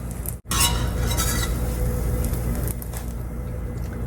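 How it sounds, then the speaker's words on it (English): Bread toasts in a skillet for a chicken fried steak sandwich, with a steady close sizzle broken by a brief drop and some faint scraping as it is pressed down. "I'm just pressing it down because it's a little bit longer than my actual skillet"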